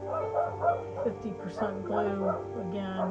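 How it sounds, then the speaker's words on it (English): Pet dogs barking and yipping in short repeated bursts indoors, audible under a person talking steadily at moderate volume. "I apologize for the pups barking."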